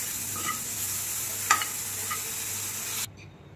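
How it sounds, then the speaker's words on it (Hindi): Green chillies sauté in a pan as a steady sizzle with a couple of stirring scrapes, close and even, cutting off abruptly near the end; no talking. "इसे भी हम 2 मिनट तक भून लेंगे।"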